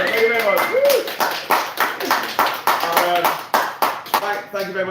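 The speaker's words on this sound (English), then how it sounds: "so big round of applause for everyone watching at home." At a Labour Party Conference social event, a crowd gives a round of applause with distinct rhythmic claps, while a voice talks and cheers over the clapping.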